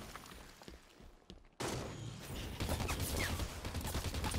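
Battle rifle fire in Halo 5: after a quiet lead-in of scattered clicks, a sudden loud burst of gunfire and combat noise starts and continues as a dense, rattling barrage to the end.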